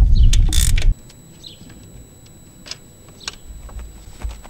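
A wrench loosens the oil drain plug under a Honda 250es Big Red ATV: a short loud burst of metal scraping, then a few faint, close ratchet clicks and taps in near quiet.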